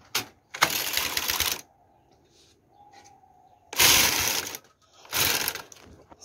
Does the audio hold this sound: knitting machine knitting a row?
yes